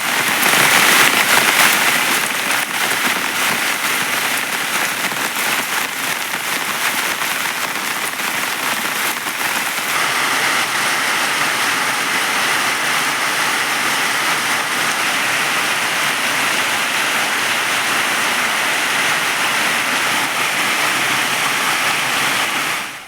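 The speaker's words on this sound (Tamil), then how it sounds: "பெரும்பாலான பகுதிகளில் காலை முதல் பரவலாக மழை பெய்தது." Steady, dense rain falls across a wide area in moderate weather, a continuous loud hiss of drops on surfaces that holds unbroken from start to finish with no voices.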